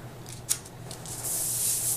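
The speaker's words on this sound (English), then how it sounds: "I'm going to adhere this down on my page with just a regular dot runner adhesive" Paper is pressed down onto a scrapbook page with a regular dot runner adhesive: a brief rub and tap, then a soft, steady papery hiss.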